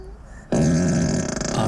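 A Tesla car's toy-box fart sound effect, the short ripper variety, bursting in suddenly as a loud, rough, sputtering blast that holds and flutters to the end.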